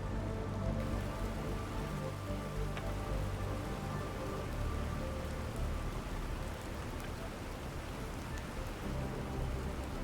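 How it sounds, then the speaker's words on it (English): Steady rain pours down in the survival game The Planet Crafter, a dense, unbroken hiss of drops on surfaces lasting throughout with no voices over it. "At least the rain looks more normal than before."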